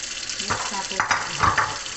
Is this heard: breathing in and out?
no